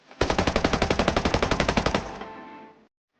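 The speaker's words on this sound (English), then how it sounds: "Let me fire a few rounds into the sky so you can see how clear those tracers are." Rapid automatic gunfire with explosive green tracer rounds in the video game Ghost Recon Breakpoint, a loud, close burst of about twenty evenly spaced shots followed by a brief fading echo.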